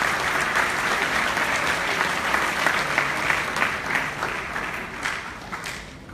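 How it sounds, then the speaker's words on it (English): Audience in a high school auditorium at an athletic awards ceremony applauding, steady dense clapping that holds for several seconds before gradually thinning and fading out. "give a round of applause for yourself."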